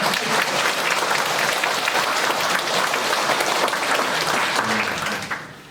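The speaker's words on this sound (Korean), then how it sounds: "우리 옆에 계신 분들과 박수 칠까요?" A church congregation applauds the choir during a worship service, loud and sustained clapping from many hands filling the room evenly before fading quickly at the end.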